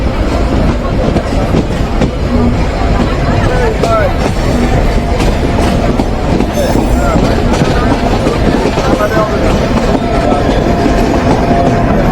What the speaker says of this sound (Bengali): কপোতাক্ষ এক্সপ্রেস ট্রেনটি চুয়াডাঙ্গা রেলওয়ে স্টেশন থেকে ছেড়ে যাচ্ছে তার গন্তব্য রাজশাহীর উদ্দেশ্যে